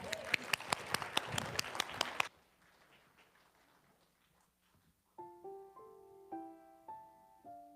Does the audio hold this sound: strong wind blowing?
no